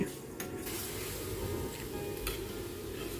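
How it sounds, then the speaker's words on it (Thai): Pork skin with fat frying slowly in a pan of oil over lowered heat, a steady dense sizzle and bubbling throughout with light clinks of a utensil against the pan. "เราจะเจียวหนังหมูไปเรื่อยๆนะครับ"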